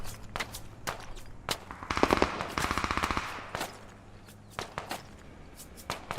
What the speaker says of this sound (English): Taking enemy fire from northeast-ish.